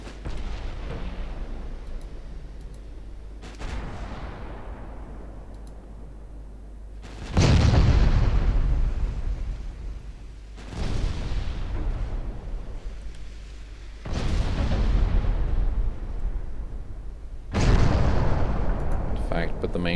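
Naval secondary guns fire in Ultimate Admiral Dreadnoughts, loud booming blasts arriving about every three to four seconds, each followed by a long rumbling decay.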